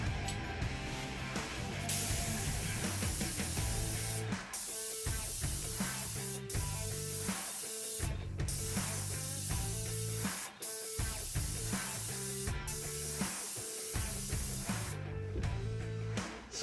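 A paint sprayer hisses in long continuous bursts close up while coating a wall in overlapping passes, with brief pauses between strokes and some music underneath.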